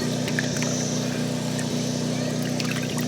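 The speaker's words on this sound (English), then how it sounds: "You can probably hear that motor in the background." A generator motor running in the background, a steady low droning hum that stays even throughout, with faint small knocks and clatter over it and no talking.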